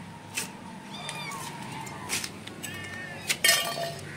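Several faint, high kitten meows come in short bursts against a quiet background, with a few light clinks between them.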